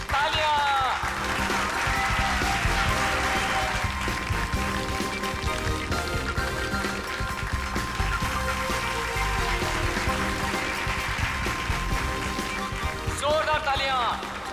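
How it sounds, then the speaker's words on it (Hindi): Audience applause at a stage magic show, a sustained wash of clapping that stays fairly even throughout while a voice talks over it. "जोरदार तालियां।"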